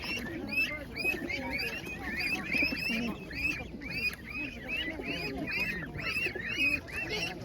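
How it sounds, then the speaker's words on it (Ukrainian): Many pigeons cooing together with overlapping chirps and calls at a pigeon show, a busy, continuous chorus of birds close by. "Гарні, дуже гарні голуби."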